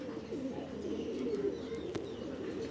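Pigeons coo softly in a Dhaka loft, a steady low murmuring chorus from several birds close by, with a few faint chirps above it and no talking.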